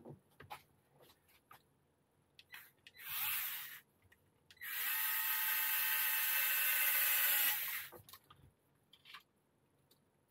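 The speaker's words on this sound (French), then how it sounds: "le tournevis électrique, ça va bien" Electric screwdriver driving screws during reassembly of an Arrma Mojave 4S RC car, heard as two close whirring bursts: a short one of about a second, then a steadier run of about three seconds, with small handling clicks around them.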